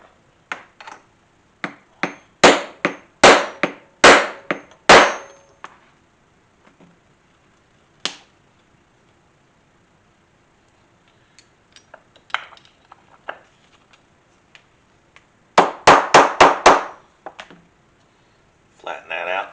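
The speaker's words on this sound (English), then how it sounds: "So I've got an 1/8 inch punch here." A hammer drives a 1/8 inch hole punch through a leather dog collar in bursts of sharp, ringing metallic blows, several rapid strikes at a time with pauses between, close and loud.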